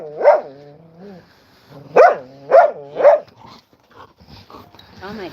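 A dog barks indoors: several loud, close barks in a quick cluster, then whimpering yips, with people talking nearby.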